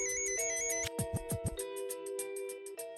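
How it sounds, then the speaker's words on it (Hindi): A mobile phone ringtone plays a steady, tonal, repeating melody at moderate volume, close by and with no talking over it. "माँ का फोन ही उठाना ही पड़ेगा।"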